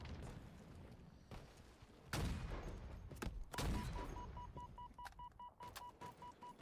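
Quiet, busy gunfire during a competitive Slayer match on the Livefire map in Halo, with scattered shots and booms layered under game noise and a repeating beeping tone.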